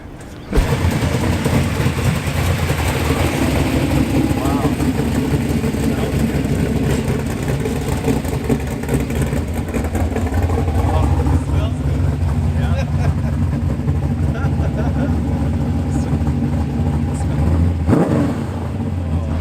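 A Porsche 911 GT3 Cup race car rumbles and revs at a cars and coffee meet, its exhaust note loud and continuous with people talking over it throughout.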